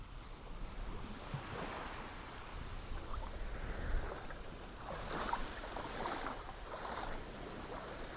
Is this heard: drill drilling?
no